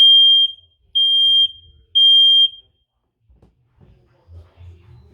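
A Google Nest Protect smoke and carbon monoxide alarm sounds its smoke test: three loud, piercing electronic beeps in even rhythm, followed by faint handling noise.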